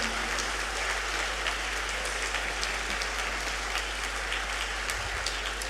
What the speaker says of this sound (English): let's give our lecturer another round of applause